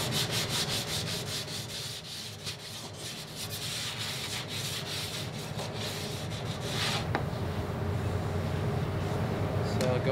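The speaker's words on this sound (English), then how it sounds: "So I'll go with a slightly finer grit every time until it bears it out to pretty smooth." Sandpaper rubbed over a surface by hand, steady scratchy strokes repeating close to the microphone, growing slightly denser toward the end.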